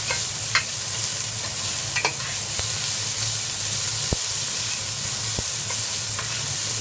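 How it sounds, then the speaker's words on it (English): Onions slowly frying in oil over low heat in a pan, a steady close sizzle with occasional scraping stirs, no talking. "You want to slowly brown the onion until they are very, very soft."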